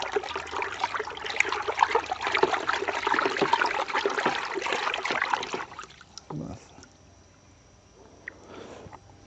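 Water cleared with alum is poured into a clay pot (matka) in the Chitrakoot forest, a steady splashing gush for several seconds that then tapers into softer trickles and drips.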